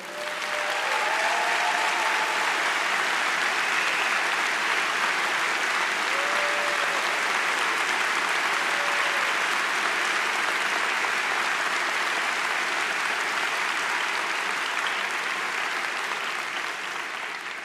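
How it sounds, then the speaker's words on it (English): Sustained, even applause from a large commencement audience at St. Thomas honoring the speaker's parents, broad steady clapping throughout with a faint voice or tone briefly audible early on. "Can we give a round of applause for them?"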